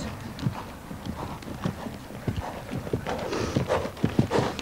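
Hooves of an eager, slightly overambitious horse clip-clop in a steady walking rhythm close by, with soft thumps and faint background noise.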